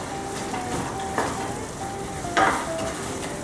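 Carrots and chicken gizzard stirred in a hot frying pan for bopis, a steady sizzle broken by two sharper scrapes of the utensil against the pan, close and alone with no voices.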